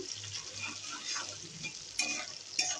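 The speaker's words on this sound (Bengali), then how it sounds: "পেঁয়াজ কুচি দিয়ে একটু নুন দিলাম তারপর পেঁয়াজ লাল লাল হওয়া পর্যন্ত একটু নাড়তে থাকলাম" Chopped onions with salt being stirred as they fry in a large kadai, a soft sizzle under light scraping strokes with a couple of sharper clinks, quiet and close.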